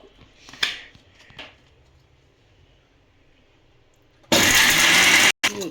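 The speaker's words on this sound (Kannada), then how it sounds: "ಈಗ ಈರುಳ್ಳಿನ ಕಚ್ಚಾ ಪಚ್ಚ ಜಜ್ಕೋಬೇಕು, ಮಿಕ್ಸಿಯಲ್ಲಿ ಕೊಟ್ಕೋಬೇಕು" A kitchen mixer grinder pulsing onions coarsely for onion thokku: a couple of faint clunks and a quiet pause, then a loud burst of motor whir that cuts off briefly and starts again.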